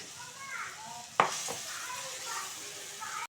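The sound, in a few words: frying split pea (motor dal) fritters in oil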